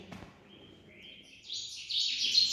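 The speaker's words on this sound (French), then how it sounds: "petit oiseau" A small bird chirps in thin, high repeated notes that grow louder and busier toward the end, heard outdoors at a Marrakech palace with no talking over it.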